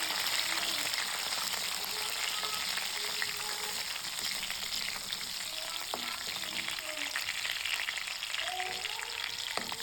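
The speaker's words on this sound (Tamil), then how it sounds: "கருவேப்பிலை போட்டுக்கலாம். நல்லா இதெல்லாம் பொரியட்டும்." Garlic and curry leaves frying in hot sesame oil for a Tamil fish curry, giving a loud, steady sizzle with crackling pops throughout and occasional stirring.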